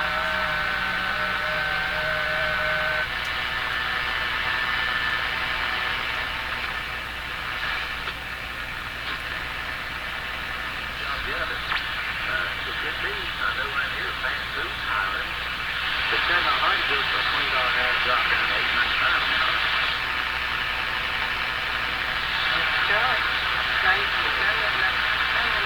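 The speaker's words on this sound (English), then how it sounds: "that sound is a ham radio FT8 ham radio transmission" Steady radio tones and hiss of an FT8 ham radio transmission drift in and out for a long stretch on a Hallicrafters TW2000 receiver, fairly loud, with faint warbling signals layered over a constant hum.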